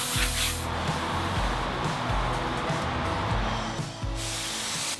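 A compressed-air chuck blasts sawdust off sanded wood, a loud continuous hissing spray with brief pauses and bursts, close up with no talking.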